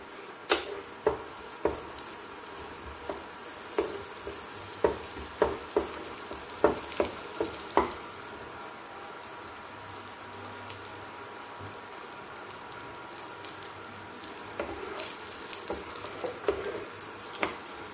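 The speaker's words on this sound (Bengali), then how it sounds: "এবার এর মধ্যে দিয়ে দেব কিশমিশ। কিশমিশটাকে খুব ভালো করে নেড়ে নিলাম।" Raisins fry in hot ghee for a vermicelli dessert, a soft continuous sizzle punctuated by sharp clicks and taps of a spoon stirring them in the pan, brisker in the first half and again near the end.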